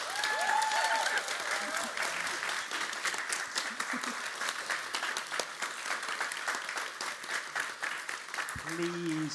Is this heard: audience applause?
yes